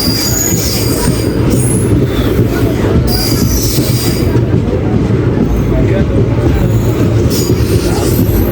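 A train departing a station rolls loudly and close by, its wheels squealing and grinding against the rails throughout, with a constant heavy rumble underneath.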